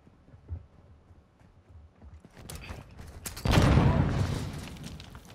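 An automated sentry gun opens fire in a Call of Duty match, first faint scattered shots, then a sustained loud roaring burst of rapid fire that tails off.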